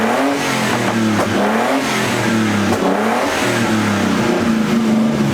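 An RB20 engine with a freshly installed Mishimoto 160° thermostat runs steadily at idle, a loud, continuous mechanical drone with a rich low hum and no break over the whole stretch.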